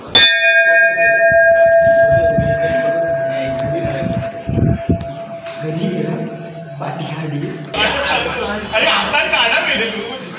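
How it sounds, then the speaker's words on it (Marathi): A temple bell rings at a Ganpati shrine, sounding one loud, clear strike right away and then a long metallic ring that slowly fades, with people talking close by. "तर आपण घंटा वाजूया."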